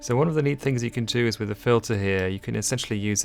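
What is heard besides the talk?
No everyday noise stands out behind the speech.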